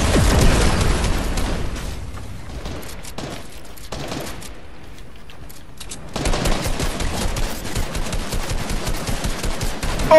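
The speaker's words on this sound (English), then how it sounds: "people shooting at us right here" Dense video-game gunfire in a fortified-shooter match, loud and sustained: rapid overlapping bursts and booms that thin out briefly in the middle before the shooting surges back at full intensity.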